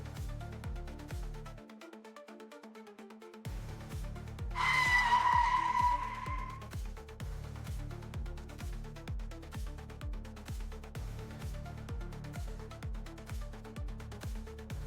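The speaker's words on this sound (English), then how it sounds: "now that Alcott has a car of his own, the chase is on" A movie car chase through a parking garage, with a brief loud tire skid squealing at mid-clip over a steady, rhythmic engine and action-score backdrop.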